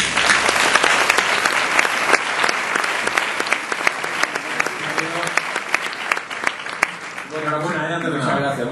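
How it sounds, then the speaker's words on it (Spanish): An audience at a national marketing awards ceremony gives loud, sustained applause with dense clapping that fills the room. Near the end a voice begins speaking over the fading claps. "les pido un fuerte aplauso para Juan Luis Cano."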